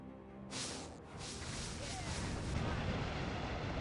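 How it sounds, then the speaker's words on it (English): Explosions in the real-time strategy game Earth 2150: The Moon Project: a dense, loud booming roar of blasts and artillery-like fire swells after a brief pause and keeps rumbling continuously. "And looks like everything exploded."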